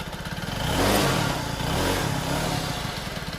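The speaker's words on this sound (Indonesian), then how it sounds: "Motor ini menyala setelah kita melakukan pergantian injeksi seperti ini." Yamaha Mio Z scooter engine running after its faulty fuel injector was replaced, a close, steady putter that swells briefly as if revved, then settles back toward idle; no voices.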